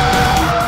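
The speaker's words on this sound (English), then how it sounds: "Let's try the car's attitude in the curves" An Alfa Romeo 4C sports car is pushed hard through a curve, giving a loud, steady engine and tyre drone with a high whine and no break over the short moment.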